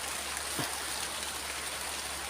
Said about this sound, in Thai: ฝนตกครับพี่น้อง